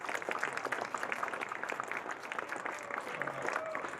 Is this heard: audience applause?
yes